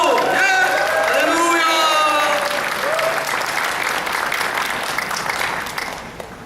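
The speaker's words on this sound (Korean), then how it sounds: "뜨겁게 우리 교회 특유의 환영의 박수" A church congregation gives a warm, sustained round of welcoming applause that fills the sanctuary, dense and loud throughout before gradually thinning toward the end, with voices and a few calls mixed in.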